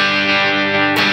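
Electric guitar played through a Blackstar amp on its crunch channel, a sustained distorted chord ringing loudly and alone, then a fresh strum near the end.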